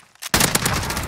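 A fast burst of gunfire from the Modern Warfare video game, with sharp shots opening after a brief quiet lead-in and then a loud, sustained rattle of rapid fire.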